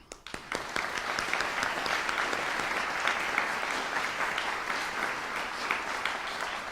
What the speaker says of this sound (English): So a big round of applause to Cynthia Lawing, Tara Villa-Keith, Tanya B